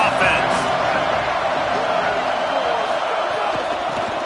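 Football stadium crowd noise, a dense loud roar that stays steady throughout under a commentator's voice.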